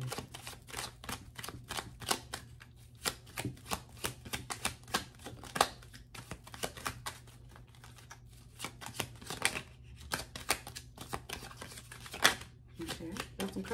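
Tarot cards are shuffled by hand in rapid, crisp riffles and slaps, close and repetitive across the whole stretch, with quiet background noise and no clear talk.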